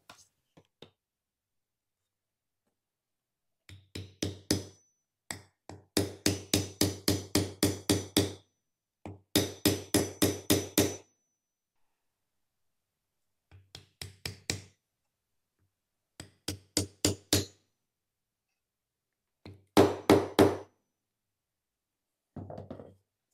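Rapid mallet blows driving wooden wedges into the joint of a large wooden mallet, sharp close knocks in tight bursts of several strikes each, separated by pauses.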